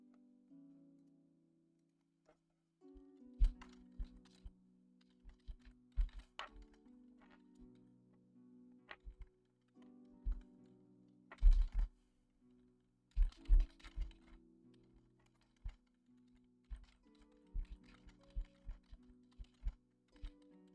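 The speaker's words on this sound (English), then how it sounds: "He's typing." Typing on a computer keyboard comes in irregular bursts of close clicks and clacks, with pauses between flurries, over a faint low tone.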